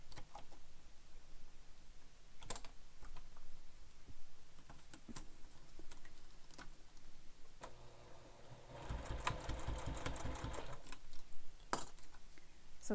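A sewing machine stitches a zipper panel onto a handbag, running in one fast, rattling burst of about two seconds after scattered light clicks and handling taps.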